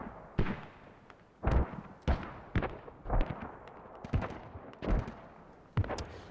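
Mortar fire in the video game Squad, heard as a series of booming thumps and cracking blasts at irregular intervals, some heavier than others, in a loud battlefield mix.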